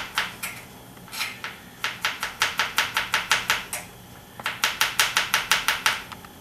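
A knife slices garlic thin on a cutting board for a lamb marinade, producing quick, evenly paced taps in bursts with a brief pause partway, close and clear with no talking.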